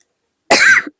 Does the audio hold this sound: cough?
yes